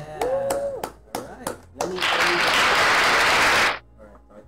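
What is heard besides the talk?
round of applause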